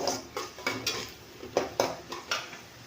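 Onions sautéed in a pan until golden, with repeated close clinks and scrapes of a utensil against the pan over a soft, steady sizzle.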